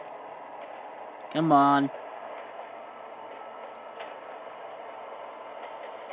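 An electric TGV commuter train in the Trainz Simulator 2 video game runs with a steady, even hum throughout, and someone speaks briefly near the start.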